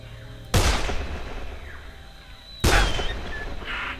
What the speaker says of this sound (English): It's a bunch of bandits shooting each other.